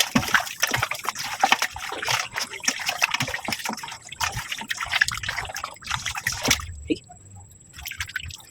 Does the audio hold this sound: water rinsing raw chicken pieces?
yes